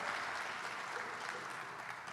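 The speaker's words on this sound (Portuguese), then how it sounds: "Posso ouvir um aplauso a Jesus bem forte por essa revelação" A church congregation applauds, producing a steady wash of clapping from many hands that sounds somewhat distant and fills the whole short stretch without pause.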